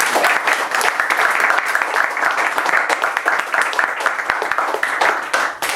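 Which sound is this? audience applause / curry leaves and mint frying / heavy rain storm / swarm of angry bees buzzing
audience applause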